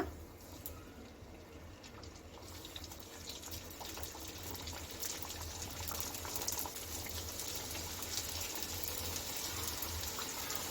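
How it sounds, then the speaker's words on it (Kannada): Puris deep frying in hot oil for pani puri, a steady, broadband bubbling hiss that grows slightly louder and fuller partway through, with no voices. "ನಾವು ಮಾಡಿ ಇಟ್ಕೊಂಡಿರೋ ಪೂರಿನ ಎಣ್ಣೆಯಲ್ಲಿ ಕರೆದು ತಗೊಳ್ಳೋಣ."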